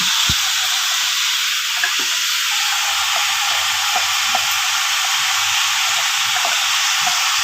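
Vegetables roasting in hot oil for a vegetable sambar give a steady, close sizzle and hiss, with a few faint pops and stirring clicks scattered through it and no voices.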